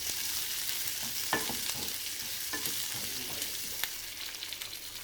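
Madras thorn pods (seema chinthakaya), seeds removed, sizzling in a pan with capsicum, with steady frying hiss and occasional stirring scrapes and clicks from a spatula.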